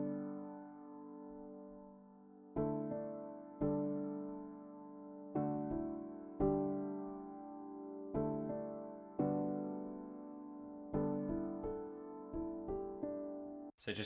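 A lo-fi dreamhop piano melody rides over sustained piano chords, ringing notes struck in a gentle, steady pattern that builds slightly in density toward the end, closing with a short noisy flick.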